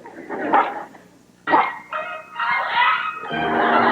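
Cartoon dog barking in an animated show, several yapping barks and whimpering yips in uneven bursts, close and clear with no other voices.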